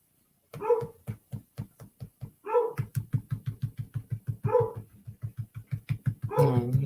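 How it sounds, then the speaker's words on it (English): A dog barks during a relaxed crafting session at home. The barking is close and loud, with rapid, evenly paced barks in several bursts and short yelping cries between them. "And here goes Bird again barking."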